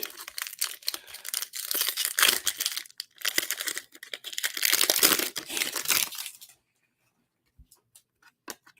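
Hockey trading card packs are torn open and handled, producing close crinkling and crumpling foil wrapper sounds in irregular bursts, then a few faint clicks after a short silence.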